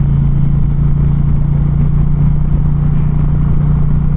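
A motorcycle, a heavier bike than a Ninja, cruises along a scenic road near Pine Mountain in Middle Georgia, its engine a steady, loud, low drone with constant rumble and no pauses.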